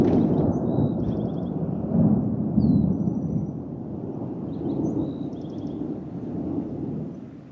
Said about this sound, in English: And there's lightning, thunder, and rain right now.